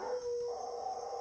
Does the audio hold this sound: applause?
no